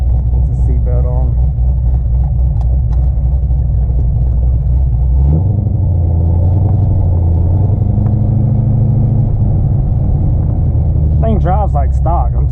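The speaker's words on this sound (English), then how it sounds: "Love the sound of the supercharger." Inside a 650 hp supercharged Corvette on the road, the engine rumbles loud and close, its pitch rising and shifting as the car accelerates, with brief talk from the driver at the start and end.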